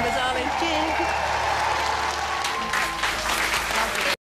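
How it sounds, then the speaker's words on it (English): Crowd applauding loudly and continuously, with a voice talking over the clapping before it cuts off abruptly. "they're all clapping for you, so well done, Jess"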